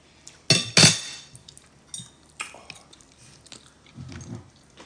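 Someone eats home-cooked meat at a dinner table: a few loud, close bites and chews, then quieter chewing mixed with light clinks of cutlery and dishes.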